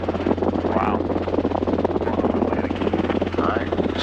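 A training helicopter drones loudly in flight with a constant rotor thump and engine whine, and speech runs over it in the cabin.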